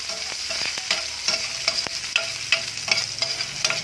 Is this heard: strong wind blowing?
no